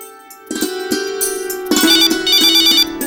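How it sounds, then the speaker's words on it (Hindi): A phone ringtone plays alone, a repeating electronic melody of bright tones with steady pulses, fairly loud and close. "जरा फोन में अटेंड करके आती हूँ"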